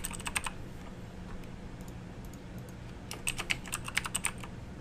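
Someone types on a computer keyboard to edit title text in iMovie, with quick bursts of close, crisp key clicks separated by short pauses and no talking.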